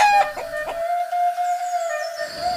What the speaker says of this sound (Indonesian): Aduh, suara ayam. Sepertinya mereka sedang adu ayam.